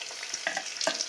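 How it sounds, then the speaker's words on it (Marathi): Onion and potato frying in oil for masala khichdi, a close, steady sizzle with two brief stirring scrapes. "कांदा बटाटा छान परतून झाले"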